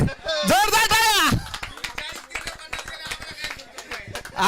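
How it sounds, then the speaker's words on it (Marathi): A crowd bursts into applause for the man of the match at the Azadi Chashak 2024 cricket match in Dehuroad, with steady scattered clapping that follows a short announcing voice and carries on to the end. "जोरदार टाळ्या."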